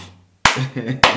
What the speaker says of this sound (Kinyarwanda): amashyi ku Burundi